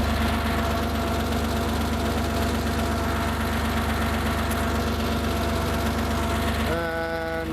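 A Porsche engine idles steadily during a 15K service with a low mechanical rumble and faint knocking. Near the end it shifts pitch briefly, as if revved slightly.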